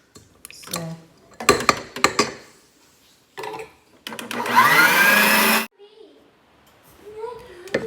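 An electric hand mixer beats butter, sugar and eggs into cake batter, a steady whirring burst of about two seconds after scattered clatter and brief speech.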